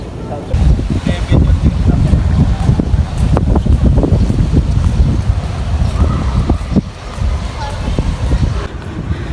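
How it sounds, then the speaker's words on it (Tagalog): Strong wind roars and buffets the microphone continuously, a heavy low rush with gusting bursts throughout. "Sobrang lakas ng hangin."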